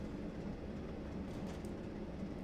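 Model USA diesel trains race along a new track, giving a continuous rolling rumble with a faint clatter of wheels, steady and fairly close, with no talking.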